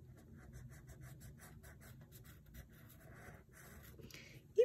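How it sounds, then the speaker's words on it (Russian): Green colored pencil shading an avocado drawing on paper, a soft steady scratching of short repeated strokes, close and quiet, alone with no voice. "Сейчас я просто зеленым карандашом закрашиваю."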